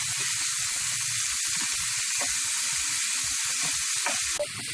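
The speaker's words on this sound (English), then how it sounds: "add onions and saute the onions for about 2 minutes." Onions sautéing in hot oil with ginger-chili paste give a loud, dense, continuous sizzling hiss close to the pan, with faint stirring underneath and no voices.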